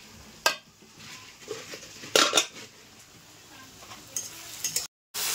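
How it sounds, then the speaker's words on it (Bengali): Ginger, garlic and green chilli paste stir-frying in a pan, a faint sizzle under a few sharp spoon scrapes and clinks against the metal. "দিয়ে এখন দেখো ভালো করে কষাচ্ছি"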